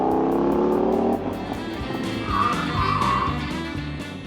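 A 1970 Dodge Challenger muscle car is driven, its engine revving loudly before dropping back to a rough, rumbling drone as it moves off.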